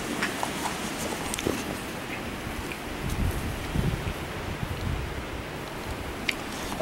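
Strong gusts of wild weather buffet a microphone, giving a continuous rough roaring rumble with irregular thumps and rustling, fairly loud and unbroken throughout, with no talking.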